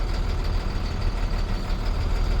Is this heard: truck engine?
yes